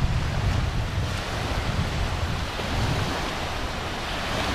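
Waves wash steadily onto a public beach on Lake Michigan, a continuous broad roar of surf mixed with gusty wind buffeting the microphone, with no voices.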